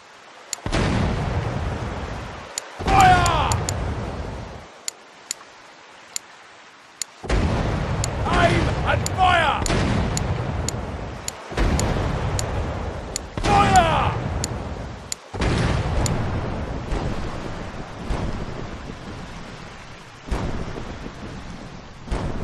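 Heavy booming ship cannon fire from the HMS Duke of Kent in the video game Pirate Caribbean Hunt, repeated deep blasts rolling out over about twenty seconds, with a voice calling out between some of the shots.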